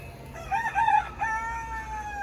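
Beside an aquaponics setup, a rooster gives one drawn-out crow at moderate distance over a low background hum.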